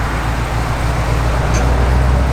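A 1965 Chevrolet Corvette L76 V8 with an aggressive cam idles steadily from the exhaust, a deep continuous rumble that is loud and close, with no talk.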